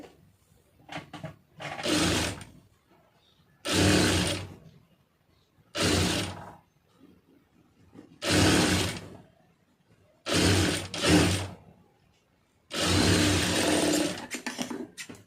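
An electric sewing machine stitches a lined blouse in several loud, close bursts of steady whirring and needle chatter, each lasting about a second or two, separated by quiet pauses.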